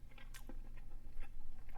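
A bite of homemade salt pork and green bean stew with rice and gravy being chewed close up, soft wet crunches and mouth clicks in an irregular rhythm, quiet and alone.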